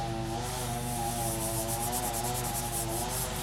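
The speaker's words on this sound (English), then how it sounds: "you want to run that over the surface, making sure that you get a nice consistent coat" Fingers rub powder over a polymer clay surface for a cherry tree necklace, giving a steady, continuous close-up scuffing friction that lasts throughout with no talk.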